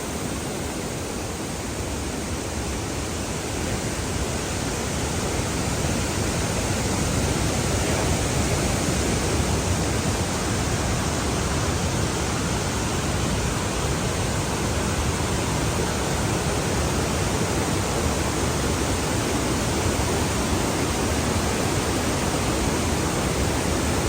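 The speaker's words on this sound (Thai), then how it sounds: "น้ำตกงามๆอาบลงน้ำก็ได้นะจุดนี้เนาะ" Tat Sae waterfall in Laos, undergoing renovation, pours and splashes steadily as a loud, dense broadband rush that stays constant throughout, with no voices over it.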